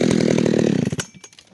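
A chainsaw with a sharp chain running in a wood kerf gives a loud rasping, pulsing buzz for about a second, then cuts off into brief clatter as the engine drops.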